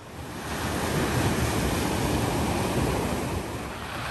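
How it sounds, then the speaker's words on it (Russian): Stormy sea surf and gusting wind on a French beach just west of the Côte d'Azur, a continuous roaring wash that swells and then eases slightly, with no voices. "Уже который день штормит."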